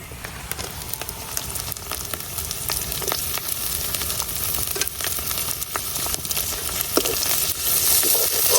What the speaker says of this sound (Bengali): শুটকিটা একটু পেঁয়াজ আর রসুনের সাথে বাইটে নিলাম